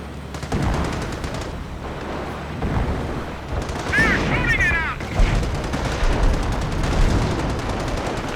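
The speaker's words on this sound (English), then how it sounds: "Another artillery barrage. Landing over here." An artillery barrage landing in the Company of Heroes World War II strategy game, heard as heavy rolling booms and scattered gunfire on a 3v3 map, while a commentator talks over the battle noise.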